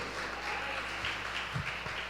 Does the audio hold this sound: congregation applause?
yes